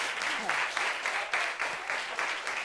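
A gathering breaks into clapping for a woman, a fairly close patter of hands rising and falling in uneven surges, with voices murmuring faintly beneath.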